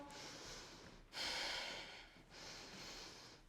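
Heavy breathing during a beginner rebounder workout, with three long broadband breaths in a row, the middle one loudest, close and alone with no talk.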